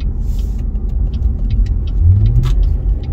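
Cadillac ATS-V sports sedan engine pulling hard under acceleration: a loud, close, steady rumbling roar with a shift in pitch partway through, heard from inside the car without talk.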